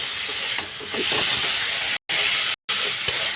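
Potatoes fry lightly in a wok, a steady bright sizzle and hiss with a few faint stirring clinks and two brief cutouts to silence.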